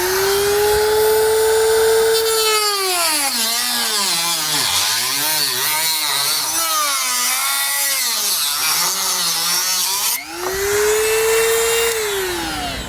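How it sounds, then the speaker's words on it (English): A Dremel rotary tool trims flexible plastic pads while fitting a Roadmaster crossbar-style base plate to a 2018 vehicle, producing a loud, close high whine whose pitch dips and wavers under load, stops briefly, then spins back up. "I'm going to use a Dremel tool"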